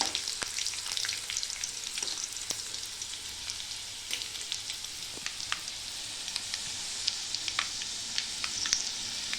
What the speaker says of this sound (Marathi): आता तेलाला चांगला लालसर रंग येईपर्यंत तळून घेते।